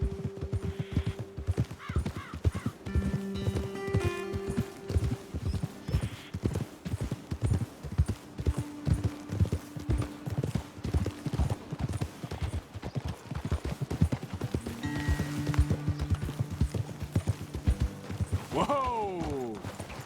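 Horses trot in the Red Dead Redemption 2 video game, a close, rhythmic clip-clop of hooves running steadily throughout, with a whinny near the end and people talking over it.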